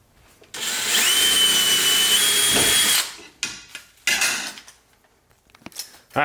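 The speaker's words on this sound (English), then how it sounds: "we're drilling the holes for the front mount" A power drill bores holes for a front-mount intercooler on a 2018 Mustang GT: one loud, sustained grinding whine of about two and a half seconds, followed by short, sharp metallic knocks and clatter.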